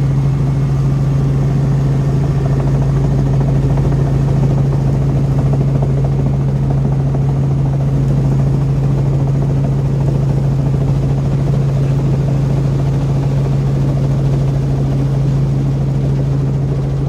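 Helicopter on a farm tour descending to land, its engine and rotor a loud, steady drone with a strong low hum that stays constant and close throughout.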